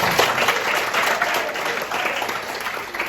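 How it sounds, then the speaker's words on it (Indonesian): After the national anthem at an online teacher-training class session, the audience gives a full round of applause, a bright, steady wash of many hands clapping, evenly loud throughout. "tepuk tangan untuk kita semua"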